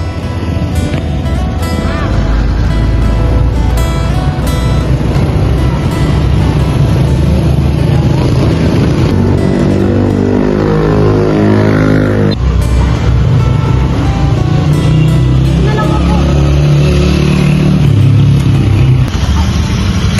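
A loud, steady motorcycle engine roar with rushing wind sounds continuously as the motorcycle rides along, with no breaks.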